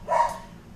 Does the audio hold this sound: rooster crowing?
no